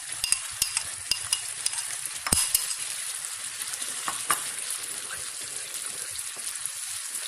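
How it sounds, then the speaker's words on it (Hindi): Spiced masala mixed with yogurt fries in a pan with a continuous close sizzle, broken by sharp clicks and scrapes of stirring against the metal. "ये मैं इसमें योगर्ट ऐड कर रही हूँ।"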